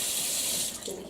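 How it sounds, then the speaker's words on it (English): Water running from a tap into empty cans to rinse them out while a basic sauce is being made in a kitchen, a steady close hiss of splashing flow filling the whole moment with no talk over it. "I like to clean out the cans with a little bit of water."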